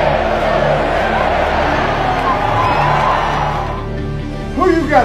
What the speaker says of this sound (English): You can hear the Razorback crowd excited about what is to come today.